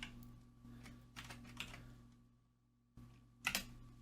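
Typing on a computer keyboard while entering code in a programming lab, with quiet scattered keystrokes in short bursts and a sharper cluster of clicks near the end over a low steady hum.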